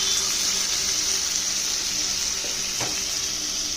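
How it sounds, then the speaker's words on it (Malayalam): Spices sizzle in hot coconut oil as part of a Christmas special dish, giving a steady, close frying hiss. Near the end there are a couple of faint clinks or stirring sounds. "ഇച്ചിരി നേരം ഒന്ന് വെളിച്ചെണ്ണയിൽ കിടന്നൊന്ന് ഫ്രൈ ആയിട്ട് വരട്ടെ"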